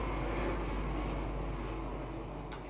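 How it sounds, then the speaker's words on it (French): An airplane passes overhead, a broad, steady low roar that stays loud and fills the background before easing slightly toward the end. "il y a un avion qui passe"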